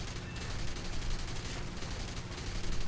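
Aircraft guns on a Me 410 in War Thunder firing at an enemy plane, a dense continuous rattle of rapid shots over engine roar lasting the whole stretch.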